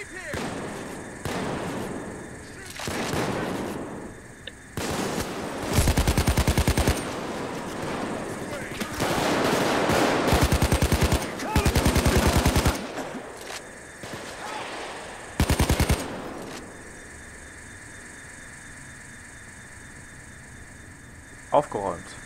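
Bursts of automatic gunfire in the video game PayDay 2 come in several loud, rapid volleys separated by quieter gaps, with voices in between.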